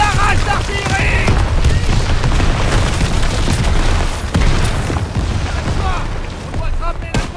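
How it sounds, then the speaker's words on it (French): Artillery barrage explosions in the Call of Duty WW2 video game, set in mountain combat: a continuous loud rumble of booming blasts and gunfire, with shouting voices over the bombardment. "Barrage d'artillerie!"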